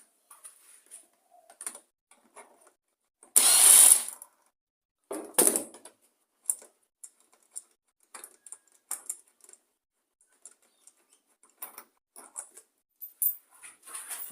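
A hand ratchet works bolts loose on an engine, with quick clicking runs and a few louder rattling bursts separated by quiet gaps, close up.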